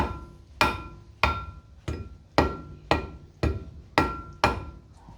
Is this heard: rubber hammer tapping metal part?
yes